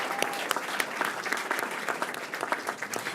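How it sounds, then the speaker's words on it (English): Audience applause at a school district board meeting, a steady wash of many hands clapping for a few seconds without a break. "Give them a big round of applause."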